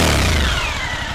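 A 2023 Suzuki V-Strom 1050 motorcycle engine revs up close, a loud throaty blip that peaks and then falls away into a lower, rumbling idle.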